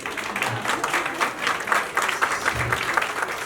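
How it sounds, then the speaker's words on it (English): Audience applause at a book event with Indian authors, a dense, steady stretch of clapping from a crowd, close and fairly loud for several seconds without talk over it. "Please clap."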